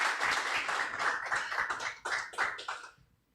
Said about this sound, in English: Let's give it a round of applause for Carl.